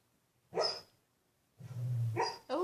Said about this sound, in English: She does little barks.